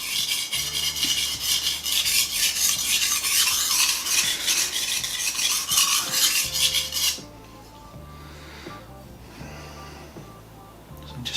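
A kitchen knife blade rasps back and forth across a wet whetstone in quick, even, gritty strokes for several seconds, then the scraping turns much quieter and more intermittent.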